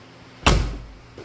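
The door of a 1999 Chevy Silverado truck with a 5.7 engine slams shut once, loud and close, with a short low thud that fades, then a faint knock follows.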